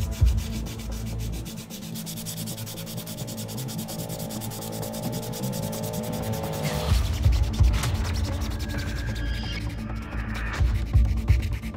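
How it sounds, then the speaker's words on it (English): Steady rubbing scrape of sandpaper working a hard resin 3D print, continuous and close, growing rougher and louder partway through. "And now, everyone's favorite part, sanding. Let's make a mess."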